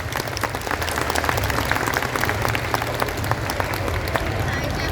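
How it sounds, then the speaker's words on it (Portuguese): Crowd applause at an anime guidebook launch event, with dense sustained clapping from many people and a few cheers, loud and continuous throughout. "uma salva de palmas para Toshi Egashira."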